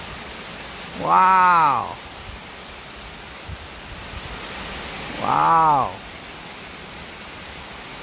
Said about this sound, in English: it just blows your mind how fast the water's shooting off the top section up there